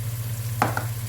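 Rice with a blended paste of onion, green chilli and ginger is stirred in a hot pan, giving a single short scraping sizzle over a steady low hum.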